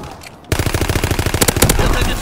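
Automatic gunfire from a weapon in Call of Duty WWII during a team deathmatch: a loud, close, rapid burst of rattling shots that starts abruptly after a brief quiet moment and carries on steadily to the end.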